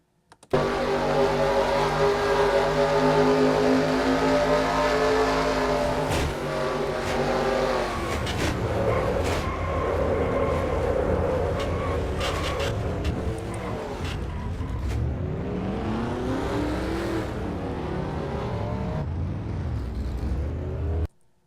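Onboard race truck engine in a NASCAR-style truck series sim racing game, loud and continuous for about twenty seconds, with repeated revving, upshifts and a dip in pitch around seven seconds as it brakes and accelerates again.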